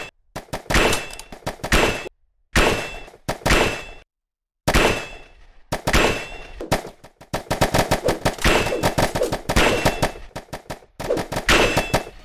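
Rapid shotgun blasts from a multiplayer mobile video game, loud close bursts with layered impact effects, fired in fast clusters separated by brief silent gaps.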